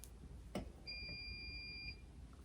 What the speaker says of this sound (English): That's the washer again.